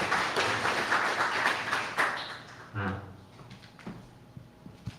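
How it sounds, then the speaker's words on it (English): Audience applause after a talk at a design and AI presentation event, a burst of clapping that swells in the first seconds and then thins out to scattered claps and taps. "let's give Victor a round of applause"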